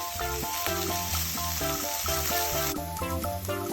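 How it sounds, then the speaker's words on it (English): Kimchi and meat stir-frying in cooking oil for Korean kimchi fried rice, giving a steady, close sizzle that carries on without a break under loud background music. "The kimchi got fried, so I'll put the cooking oil. And I'll stir fry it again."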